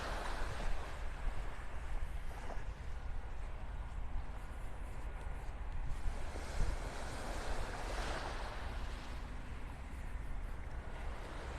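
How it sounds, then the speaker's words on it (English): Small waves breaking along a beach shoreline in North Naples, Florida, a continuous rolling wash of surf with swells building and fading, accompanied by light wind buffeting the microphone. "Just some little waves breaking on the shoreline here."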